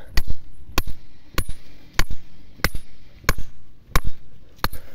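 Sharp metallic hammer blows drive a stake into the ground at a steady pace, about eight hits in a few seconds, loud and close with short gaps between them.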